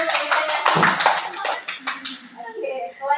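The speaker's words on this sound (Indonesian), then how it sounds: "tepuk tangan untuk saya" Clapping, a brief patter of claps that thins out, with a voice talking over it.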